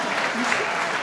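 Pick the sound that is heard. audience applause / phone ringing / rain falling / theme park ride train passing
audience applause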